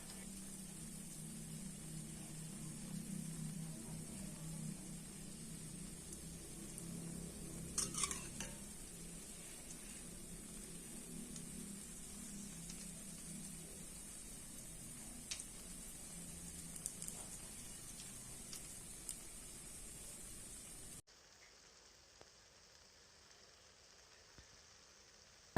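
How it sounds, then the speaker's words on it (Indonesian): Doughnuts sizzle as they fry in hot oil, a steady crackling bubble that runs close and even for about twenty seconds, with a few small knocks and clinks along the way, before the frying noise cuts out. "Ini kita goreng sampai warnanya golden brown."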